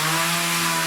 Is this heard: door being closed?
no